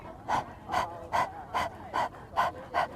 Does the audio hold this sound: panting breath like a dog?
yes